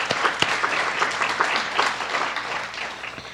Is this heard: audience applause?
yes